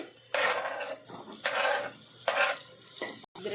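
Tomatoes going into a pan of onions and green chilies frying in hot oil, with loud sizzling in repeated bursts as a spoon stirs and scrapes against the pan.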